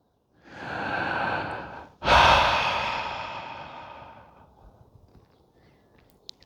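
A deep breath drawn in slowly, followed by a long, fading exhale, close up with no other sound around it.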